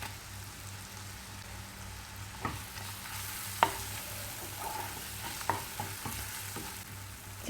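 Masala frying and being stirred in a pan for a Chettinad country chicken gravy, a steady soft sizzle broken by scattered spoon scrapes and clacks against the pan, close and moderately quiet, with no talking.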